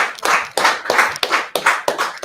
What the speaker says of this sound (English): That brother, round of applause.